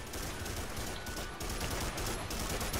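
Sustained automatic gunfire in the dinosaur shooter Primal Carnage, a steady rattling stream of shots at moderate loudness throughout, with no talk on top.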